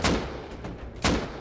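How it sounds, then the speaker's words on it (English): Two loud gunshots crack close by in the survival game Rust, spaced about a second apart, with a short decaying tail after each. "we're getting shot at"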